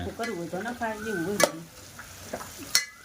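Garlicky chili hissing in a hot pan: a low, steady sizzle with a couple of sharp stirring clinks, and a faint tonal hum over the first half.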